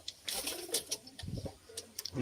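Pigeons in a loft make a few low, throaty coos, faint and close, broken by sharp little clicks and rustles.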